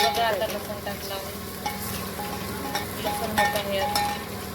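Paneer and vegetable curry sizzles and fries in a pan at home, a steady close hiss with occasional light stirring and clinks throughout.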